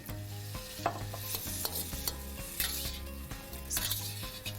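Pork stir-frying in a hot pan, the meat shoveled and flipped so it won't stick; steady sizzling with scraping, stirring strokes and occasional utensil knocks, music-like tones running underneath.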